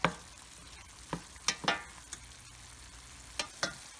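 Scraping strokes of a utensil stirring Cajun pasta in a pan on medium-high heat, several distinct swishes close up over a faint steady sizzle.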